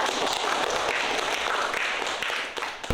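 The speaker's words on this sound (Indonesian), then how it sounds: "Tepuk tangan dulu." A classroom group applauds together for a few seconds, a dense wash of clapping that thins out toward the end.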